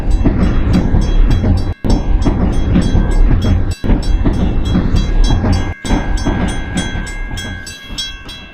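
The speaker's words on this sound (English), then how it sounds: "I think the train should be coming sometime soon, and you'll be able to see what happens here" A train pulling into a level crossing in a work-in-progress VR scene, heard as a loud, steady rumble with rhythmic clacking and a sustained tonal ring, easing off toward the end.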